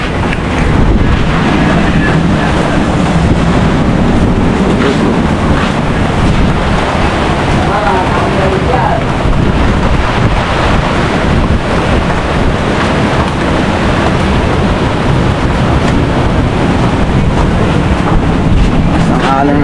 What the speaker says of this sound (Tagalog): Ang alon ng dagat guys.